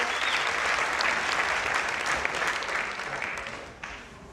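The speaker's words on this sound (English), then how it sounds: "Come on, somebody clap it for Jesus." Worshippers at a church testimony service clap together loudly and steadily, the dense applause thinning and fading over the last second with a few scattered claps.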